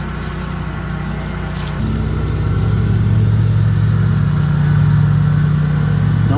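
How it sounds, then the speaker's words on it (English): A portable air compressor pump runs steadily with a loud, continuous mechanical drone after freeing up during a pressure test, its tone stepping up slightly as it keeps running alone without talk. "So now I've got the pump free flowing again,"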